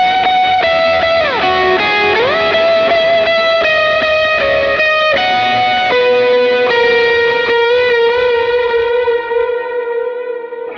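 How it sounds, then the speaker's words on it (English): Electric guitar run through a Line 6 Helix with amp gain, 808 overdrive, dual delay and glitz reverb, playing sustained, bending lead notes with long shimmering delay trails that fade out at the end, loud and alone. "Amp gain, 808 drive, dual delay, glitz reverb."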